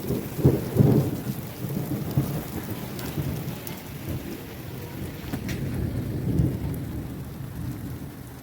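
A thunderstorm over the town of Bagasara: steady heavy rain pours on surfaces while low thunder claps and rumbles rise and fall, loudest near the start, with no voices.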